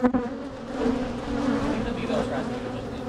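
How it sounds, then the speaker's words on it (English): Honey bees buzz around a hive outdoors, a dense steady drone with wavering pitch, fairly close and continuous throughout. "The bees have chilled out again, at least over here."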